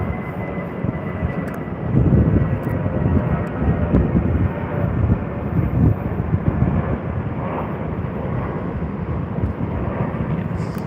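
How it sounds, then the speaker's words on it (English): A Jetstar Airbus A320-200 airliner departs toward Melbourne, its engine roar steady and moderately distant throughout, swelling slightly partway through. "Jetstar A320-200. I believe this is departing down to Melbourne."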